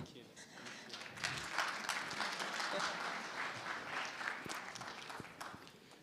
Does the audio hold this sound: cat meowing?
no